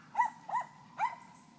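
Three sharp dog barks ring out, two close together and a third after a short pause, somewhat distant and clear against a quiet background.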